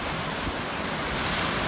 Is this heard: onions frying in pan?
no